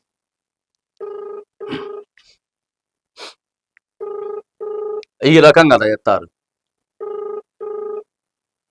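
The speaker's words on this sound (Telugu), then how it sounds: "ఒకసారి రింగ్ అయితా ఉంది" A telephone ringback tone sounds during an outgoing call to a local official, with evenly spaced double rings repeating about every three seconds. A voice speaks briefly between the rings.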